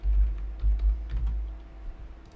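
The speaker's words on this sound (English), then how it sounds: "I'm sorry if me typing on my desk is a little bit loud." Fingers type on a computer keyboard at a desk, with close, fairly loud keystrokes and desk thumps in quick irregular runs that slow and soften toward the end.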